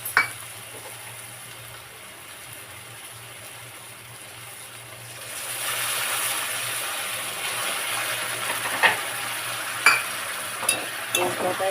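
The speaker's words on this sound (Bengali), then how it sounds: "মশলাটা এবারে আস্তে আস্তে কষতে হবে," Salt, turmeric, chilli powder and cumin frying in oil for a fish curry, a soft sizzle that swells and grows louder halfway through, with a few sharp scraping clicks of stirring near the end.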